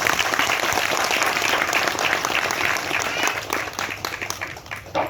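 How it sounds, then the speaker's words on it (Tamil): A crowd at a Tamil movie audio launch applauds the film's producer, a loud, dense wash of clapping that holds steady and then tapers slightly toward the end. "எல்லாரும் ஒரு பெரிய கைத்தட்டு தட்டுங்க நம்ம தயாரிப்பாளருக்கு"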